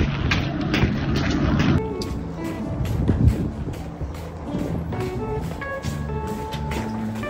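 Strong wind buffets the microphone with a loud roar that eases after a couple of seconds, leaving a steady rushing outdoor noise.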